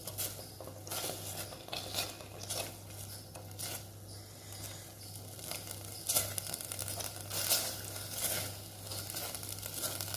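Apple jam cooking over medium heat, stirred in a pan with scattered clinks and scrapes of a utensil against metal over a soft continuous background hum, close by and without talk.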